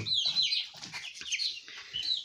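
Month-old meat-and-egg chicks chirp continuously in a dense, overlapping chorus of high peeps, fairly close and steady throughout, with no talking.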